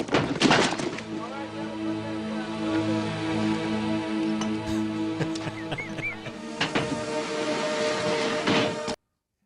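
A box full of grenades is dropped while being unloaded from a truck, a sharp thud and crack at the start followed by rattling, clattering debris and further knocks under continuous talk.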